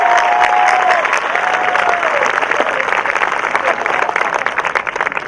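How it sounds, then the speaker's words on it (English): A high school graduation audience applauds loudly and continuously, dense clapping from a large crowd with a few whoops and cheers rising over it. "let's give her another round of applause"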